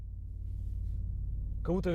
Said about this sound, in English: that simulates the sound of a V8 on an electric car